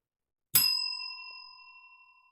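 One metallic strike of a bell rings out clearly, its bright tone sustaining and slowly fading over a couple of seconds in silence.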